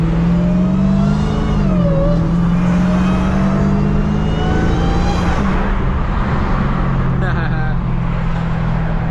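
A supercharged SRT Hellcat engine roars continuously up close, climbing in pitch with supercharger whine as it accelerates in the rain on bald tires, and a voice talks underneath.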